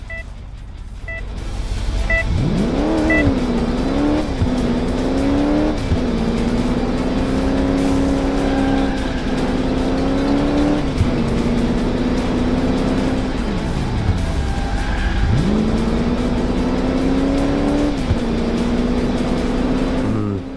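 A car engine in the 2008 PC racing game Crash Time 2 (Alarm for Cobra 11: Burning Wheels) drives up, its loud revving climbing and dropping through several gear shifts over a steady roar, with no talk.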